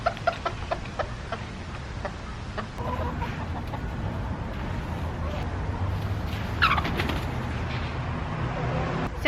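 A flock of backyard chickens clucks and murmurs as a broody hen is returned to it, with scattered close clucks, a few sharper calls and a low rustling background throughout.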